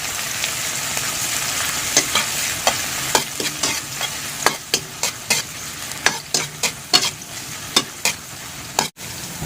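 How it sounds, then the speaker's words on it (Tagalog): Pork sautéing with onions in oil for sinigang, a constant sizzle punctuated by a rapid series of spatula scrapes and taps against the pan, close and fairly loud. "batang mantika kay ang igisa ag karni sa sibuyas"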